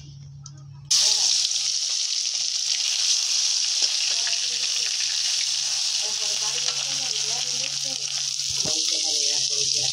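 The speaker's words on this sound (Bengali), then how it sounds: "আমি কড়াইতে তেল দিয়েছি, এখন দিয়ে দিব একটু রসুন বাটা।" Garlic paste hits hot oil in a kadai and bursts into a loud, steady sizzle that holds for several seconds, close up, with occasional light stirring clinks and no voices.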